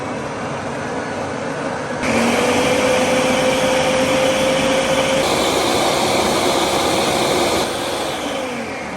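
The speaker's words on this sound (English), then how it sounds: "I'm just going to push the puree button." A blender purees squash bisque soup with a loud, steady motor whir that rises in pitch as it speeds up, running continuously close by.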